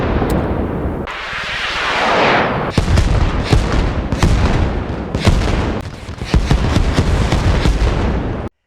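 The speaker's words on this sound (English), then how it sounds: "the explosions will just give you tinnitus" Explosions and rapid gunfire from the military game Arma Reforger: a long roaring blast swells early, then dense bursts of shots and booms crackle repeatedly, loud and close, with no talking.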